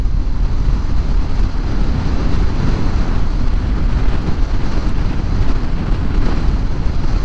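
Strong outdoor wind buffets the microphone in a steady, loud low rumble for the whole stretch, with no voices, as gusts sweep past a heavy parked vehicle.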